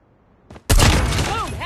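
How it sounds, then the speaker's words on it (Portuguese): Video game gunfire in a Search and Destroy round: after a brief quiet stretch, a sudden loud shot bursts out and rings on with a dense, sustained report, while a voice comes in over it near the end. "Boom, headshot."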